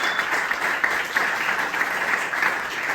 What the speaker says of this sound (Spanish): Denle una fuerte ese aplauso